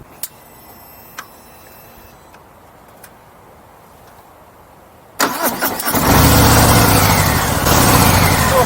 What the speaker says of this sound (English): so this bike is keyless, so as long as you're within about 6 foot of the bike, it will start off the touch of a button